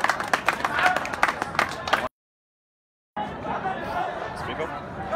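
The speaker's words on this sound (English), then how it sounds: "just clap for him warmly" An audience at an English language club meeting claps for speaker Hassan Sufi, a burst of clapping mixed with murmuring voices, then a sudden gap of silence before the clapping and chatter resume.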